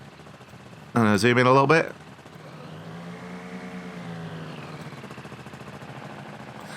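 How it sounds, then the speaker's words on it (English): A two-stroke ultralight aircraft engine in a flight simulator game idles with a steady, low buzzing drone after a short burst of speech, running evenly at moderate volume until the end. "you can hear that does sound like a two-stroke engine"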